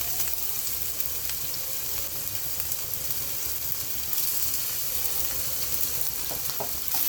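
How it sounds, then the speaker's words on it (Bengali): Onions frying in hot oil for a flat needlefish curry, giving a dense, steady close-up sizzle that carries on without a break, with a few faint clinks of a utensil. "এটা গরম হয়ে গেলে এখানে আমরা পেঁয়াজ দিয়ে দিই"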